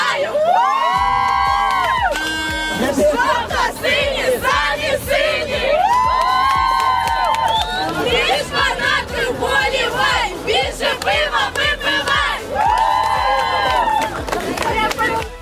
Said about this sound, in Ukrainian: Бойовий дух улюбленої команди також підтримували різними кричалками.